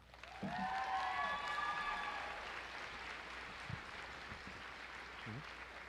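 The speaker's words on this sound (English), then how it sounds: "Please give a round of applause for Samantha Acosta" Audience applause at a high school graduation ceremony, a broad steady wash of clapping that rises at the start and settles into a softer sustained patter, with faint tonal hum laid over it.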